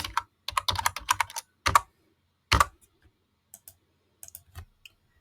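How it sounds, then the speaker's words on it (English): Typing on a computer keyboard, with a quick burst of close, crisp key clicks followed by scattered single taps and short pauses, no talking. "Now here I will type in say user object"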